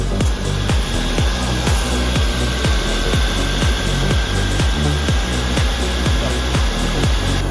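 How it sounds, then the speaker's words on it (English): Radiator cooling fan running on an ex-police Volvo T5 with very high mileage, a steady whirring drone layered with a rapid, regular mechanical ticking pulse, loud and close throughout. "Fan's coming on."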